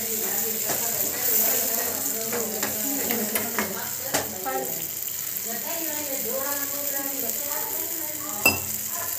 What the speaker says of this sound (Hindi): ये जो अभी पूरा मिला के रखा था दही और मसाला चटनी का वो ऑयल में डाल के पका देंगे।